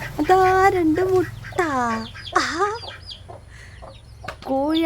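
A hen clucks loudly and repeatedly at close range after laying eggs, her calls rising and falling in a steady series of harsh, drawn-out notes.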